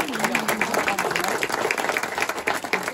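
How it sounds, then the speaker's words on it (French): Audience applause for two storytellers at an afternoon storytelling event, a dense, steady clapping that fills the whole stretch while a voice speaks over it. "Vous pouvez les applaudir tous les deux parce que c'est fantastique."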